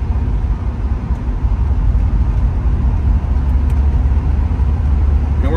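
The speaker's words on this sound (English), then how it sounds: "Now we're in 5th gear, rolling from about 50, and I give it some throttle, and it's just plenty of torque." A 1989 Porsche 944 S2 five-speed pulls from about 50 in fifth gear under throttle, a loud, steady low engine drone heard from inside the car, continuous for several seconds with no talking.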